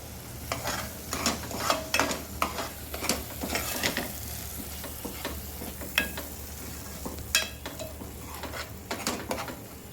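Spices being sautéed in a pan for misal: soft sizzling under frequent metallic scraping and clinking of a spoon against the pan, close and uneven, with no talking.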